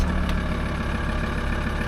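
Engine of a VW T4 van running at idle, a steady, close, low rumble with an even drone and no talk.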